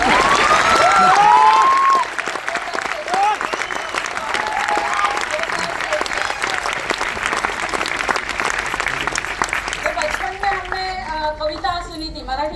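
An audience at a women's event bursts into sustained, dense clapping that lasts about eight seconds. A voice speaks just before and again as the applause fades.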